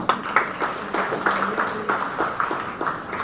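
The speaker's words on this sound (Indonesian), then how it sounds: "Tepuk tangan." Applause at an Indonesian church synod conference, a crowd clapping with a regular pulsing rhythm, moderately loud and close, without talk.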